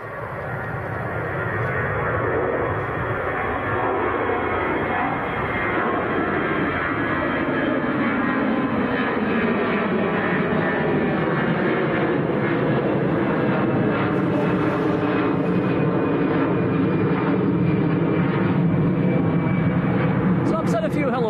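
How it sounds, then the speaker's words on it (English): EasyJet airliner taking off at Manchester Airport, its jet engines a loud sustained roar that shifts in pitch as the aircraft climbs away, with people talking over it throughout. "So this is EasyJet just getting airborne."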